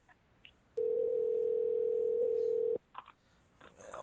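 A telephone line gives a single steady, clean dial tone lasting about two seconds, close and clear, with brief faint noises before and after it.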